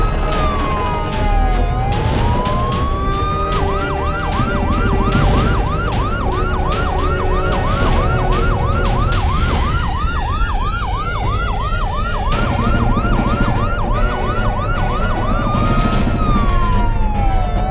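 A police car siren wails loudly and continuously during a chase, first with slow rising-and-falling sweeps, then a rapid repeating yelp, before returning to the slower wail, with no talking over it.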